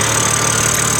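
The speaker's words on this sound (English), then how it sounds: "That noise is the direct injection, the fuel injection makes that kind of sound I've learned on these BMW engines" A 2023 BMW M3 Competition engine idling, its direct fuel injection giving a steady, fast ticking chatter over a smooth mid-pitched hum, close and loud, with no talking.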